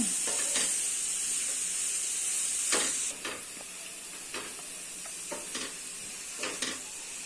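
Carrots frying in melted butter in a pan for carrot halwa, with a steady sizzle throughout and a few sharp spoon-against-pan scrapes and taps as the pieces are stirred.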